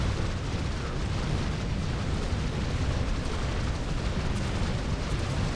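Cannon towers firing in a tower defense video game, a dense rumbling wash of overlapping explosions and booms rolling on continuously without letup.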